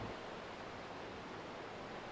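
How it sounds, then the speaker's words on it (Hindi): Rough sea waves break against the shore in a continuous, faint, broad wash of surf with no distinct individual crashes and no voices. "इन बिफरी हुई लहरों को देख रही हूं"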